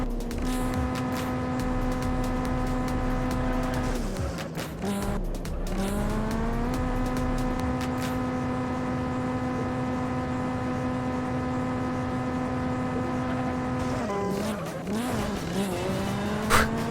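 All-wheel drive cars race on nitrous in the video game Juiced, a loud steady engine whine holding pitch with brief dips and rises at gear changes and turns, plus some tyre noise, continuous throughout.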